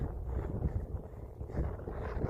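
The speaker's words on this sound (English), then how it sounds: "The wind is just blowing." Wind blowing across a rugged, barren mountain pass, a low rumbling buffet against the microphone, steady and close with gentle surges, no talking.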